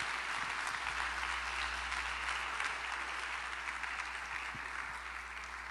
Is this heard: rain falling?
no